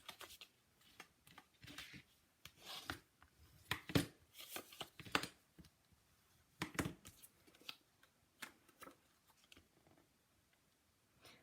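Paper being folded and handled for a handmade fun-fold card, a string of quiet crisp creases, rustles and taps in irregular bursts, close and faint.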